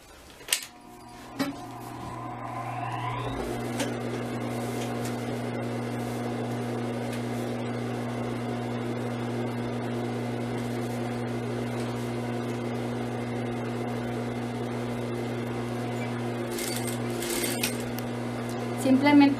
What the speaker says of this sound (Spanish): lo que vamos a hacer ahora es que vamos a coser